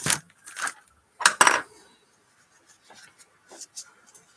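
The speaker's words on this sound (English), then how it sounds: "Hey, screwdriver's rolling away." A small screwdriver rolls and clatters across a tabletop during a decoder install in an Atlas/Kato RS-11 model locomotive, giving several light, close ticks and taps that thin out into faint scattered clicks.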